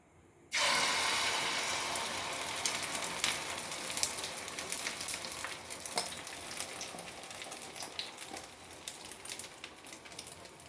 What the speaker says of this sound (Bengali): এবার ডিমটা কড়াইয়ে দিয়ে দেবো অমলেট করার জন্য।